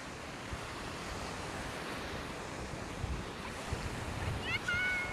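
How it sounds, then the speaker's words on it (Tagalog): Strong ocean surf breaking on the beach at Fortune Island, Nasugbu, Batangas, a continuous roaring wash with wind buffeting the microphone and a few faint bird-like chirps near the end. "Grabing alon talaga dito."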